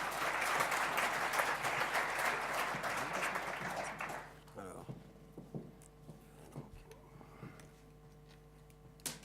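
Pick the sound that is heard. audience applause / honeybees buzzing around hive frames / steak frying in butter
audience applause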